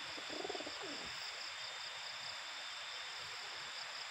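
Soft pigeon cooing drifts in briefly near the start over steady background hiss, faint and somewhat distant.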